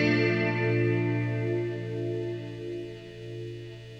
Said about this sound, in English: the guitar tones in this album have been insane